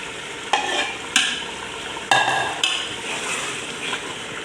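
Eggs, chicken and cabbage stirred together in a pan, with several sharp scrapes and clinks of the spoon against the metal over a steady low sizzle.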